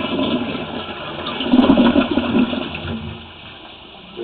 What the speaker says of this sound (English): Let's flush the toilet.